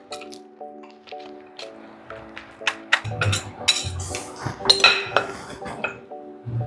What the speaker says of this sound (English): And we are going to add this marinade.